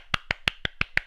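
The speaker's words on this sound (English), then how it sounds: "that deserves another round of applause." A single pair of hands claps six times in a quick, even rhythm, sharp and close, with no crowd and no talking.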